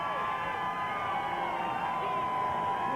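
A large race crowd at Watkins Glen cheers and roars steadily for Jeff Gordon's 1998 victory, heard as a dense, continuous wash of shouting voices with no pauses.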